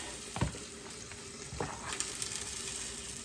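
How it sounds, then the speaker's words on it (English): White cheddar cheese being stirred into food frying in a pan, with a steady close sizzle and a few sharp scraping strokes of the utensil against the pan. "Just stir it up until the cheese melts."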